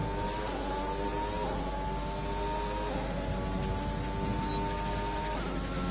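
An F1 race car in the F1 2020 game at the Russian Grand Prix accelerates with DRS open, a high whining engine note climbing through several upshifts, each gear rising in pitch and then dropping, loud and continuous with no talking.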